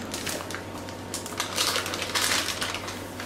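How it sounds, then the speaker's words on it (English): A brownie mix packet is cut open, giving close crinkling plastic and rustling packet noise over about three seconds, with no talking. "Cut open the brownie mix."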